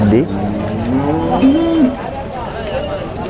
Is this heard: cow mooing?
yes